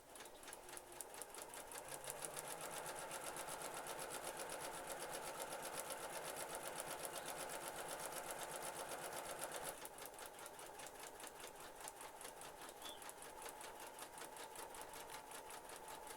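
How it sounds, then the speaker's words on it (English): A Janome 350E embroidery machine stitches a bodice panel for an Anna coronation dress, giving a fast, steady, even needle rattle and whir that runs continuously throughout, with a slight shift in tone partway through. "And this is our embroidery machine in action. Our embroidery machine is a Janome 350E."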